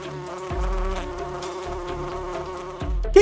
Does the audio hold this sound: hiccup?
no